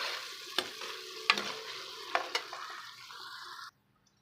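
Dhaba-style moong dal masala with softened tomatoes gets a few firm stirs in a pan, close scraping strokes over a low sizzle, ending abruptly with no voices.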